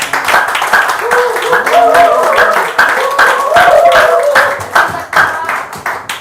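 Audience clapping at a weekly seminar to welcome a guest doctor to the front, a steady patter of hands mixed with voices talking over it throughout.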